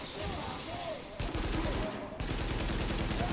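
Gunfire in The Division video game: sustained rapid automatic bursts over a steady game background, with the firing growing denser partway through.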